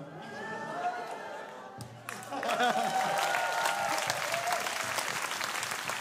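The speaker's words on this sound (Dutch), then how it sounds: "Ja, geef ze een groot applaus, de topzangers van Singing Pelamaas." Applause from a show audience for a group of singers, starting sparse and swelling into a loud, dense ovation after about two seconds, with some crowd noise mixed in.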